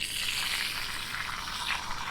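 Bacon sizzles in a pan over a riverside campfire, a steady, even crackling hiss that stays constant throughout, near and with no talking.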